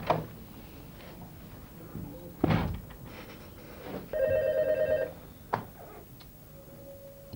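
An indoor telephone rings with a brief electronic trill amid scattered knocks and handling noises, the ring burst lasting about a second before quieter clicks follow.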